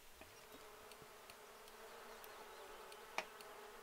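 Bees buzzing around a full, active beehive in The Sims 4, a soft steady insect drone with faint scattered clicks and one brief sharper tick near the end, low and alone.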